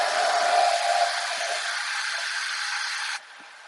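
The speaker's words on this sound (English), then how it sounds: "let me dry that a little bit" A hair dryer blows steadily over freshly painted inlays on a sign, a loud even whoosh that cuts off abruptly near the end, leaving faint room noise.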